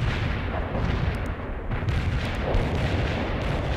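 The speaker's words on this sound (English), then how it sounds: "I need another artillery barrage." An artillery barrage pounds a battlefield in the real-time strategy game World in Conflict: Soviet Assault, a heavy, continuous rumble of overlapping explosions and booms that stays loud throughout.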